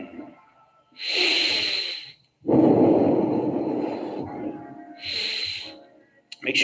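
Slow, deep breathing during a yogalates stretch: loud hissy inhales and exhales follow one another closely, near the microphone, with no talking.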